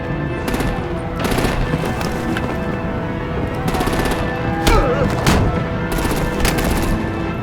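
Gunfire in the Batman: The Enemy Within video game, several sharp bursts of automatic fire cracking over a steady background din, loud and close, with short gaps between volleys.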